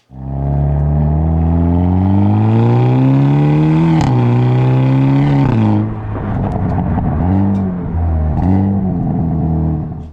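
A Hyundai Elantra N's turbocharged four-cylinder engine revs hard and loud, pitch climbing through the gears with brief drops at each shift, then rising again in bursts.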